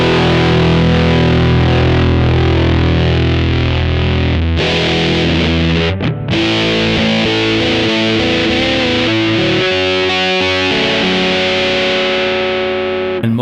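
Electric guitar through a Mosky Mini Muff fuzz pedal with the tone knob rolled back gives thick, dark, saturated chords and sustained notes. The playing is loud and continuous, with a brief break near the middle, and no talking.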